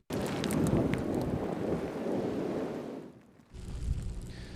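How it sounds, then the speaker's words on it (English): Thunder rumbles through a spring snowstorm in downtown Montevideo, heard as a loud, sustained low roar for about three seconds before easing, then a softer second rumble follows, with wind noise buffeting the microphone throughout. "That's thunder."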